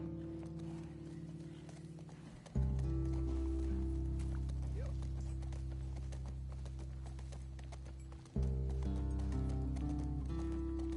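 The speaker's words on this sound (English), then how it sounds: "you really only get to ride a horse." Horse hooves clip-clop in The Last of Us video game as the horse is ridden. The beat is steady and close over a loud low rumble, broken by two sudden jumps in the background sound.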